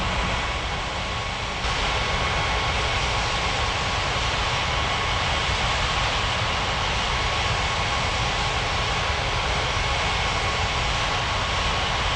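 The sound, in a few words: jet airliners taxiing at airport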